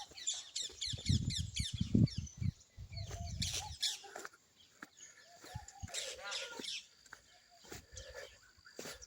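Birds call around an ashram on the Narmada riverside pilgrimage route between Badrika Ashram and Garudeswar, with a mix of quick chirps, trills and scattered calls at moderate distance and a low rumbling murmur in the first few seconds.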